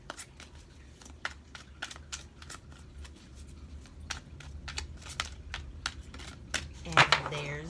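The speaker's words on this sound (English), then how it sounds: "Alright, we're gonna do 3 more shuffles" Tarot cards being shuffled, a run of soft, quick riffling clicks and flicks close by, growing slightly busier toward the end, with a voice briefly present near the close.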